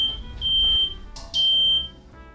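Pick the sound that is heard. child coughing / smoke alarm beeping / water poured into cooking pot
smoke alarm beeping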